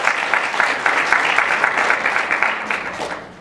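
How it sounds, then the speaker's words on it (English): Loud, dense applause from a concert audience at a spring choir show, a sustained wash of clapping for a few seconds that fades out at the end. "Give yourselves a round of applause for all the great work that you did last year"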